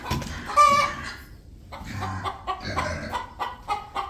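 A hen clucking close by in short bursts, with a few softer clucks and rustling following after a brief pause.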